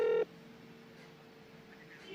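An outgoing phone call on speakerphone starts with a short, loud electronic ring tone, then drops to a faint, thin hum of the line waiting to connect.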